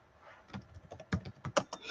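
Quiet, close typing on a computer keyboard, a short irregular burst of soft key clicks with a few sharper strokes near the end.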